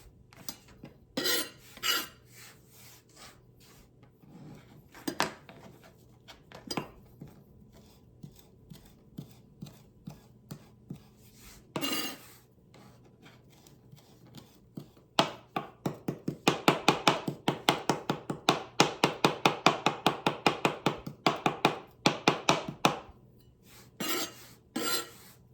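A kitchen knife chops food on a board during Thanksgiving cooking. Scattered single knocks come first, then a fast, steady run of close, crisp chopping strokes in the middle before slowing again.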